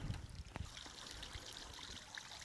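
A creek full of boulders in a mid-winter cedar forest, flowing with a faint, steady trickling and splashing murmur at low volume. No one speaks.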